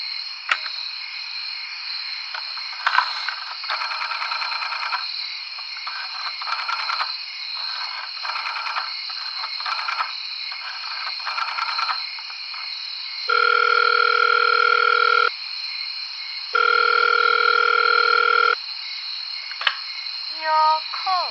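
Telephone line tones on an old landline, a steady dial tone broken by bursts of dialing and switching, then long even tone blocks near the end, loud and continuous with no voices.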